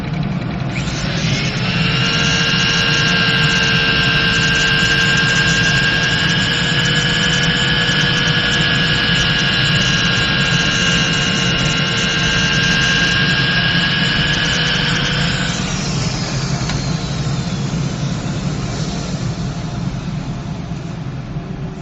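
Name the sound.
workshop dust collection system running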